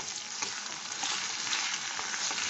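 Grated ginger fries in a pan, a soft, even hiss of oil with faint stirring scrapes now and then, fairly quiet and close.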